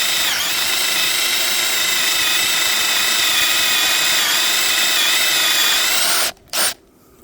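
A power drill whines steadily at high speed, boring continuously into wood for about six seconds before cutting out, followed by a brief final burst.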